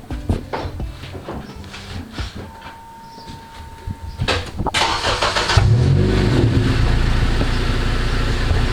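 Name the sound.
Acura TSX engine running with muffler deleted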